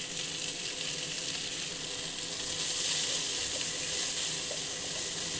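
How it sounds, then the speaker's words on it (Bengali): Chunks of taro (kochu) fry in oil in a wok, a continuous soft hiss and crackle close by, even in level from start to finish with no voices. "এরপর কড়াইয়ের মধ্যে কচুগুলো ভালো করে একটু ভাজতে হবে।"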